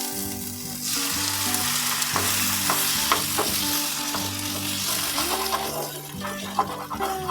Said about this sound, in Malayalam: ഇനി നമുക്ക് മുട്ട ഒഴിച്ചു കൊടുക്കാം.